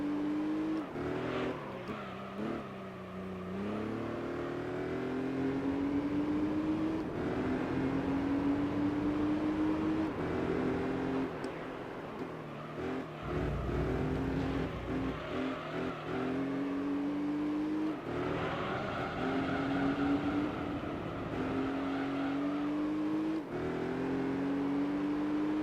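A 2000 Volkswagen Beetle Cup race car with a 2.8 VR6 engine in Gran Turismo 3, droning and revving steadily with rising and falling pitch through gear changes, loud and continuous with no talk.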